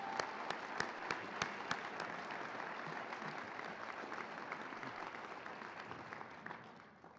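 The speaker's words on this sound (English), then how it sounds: "Round of applause." An audience at a celebration honoring St. Norbert College's national championship men's hockey team applauds steadily for several seconds, soft and distant, tapering off at the end.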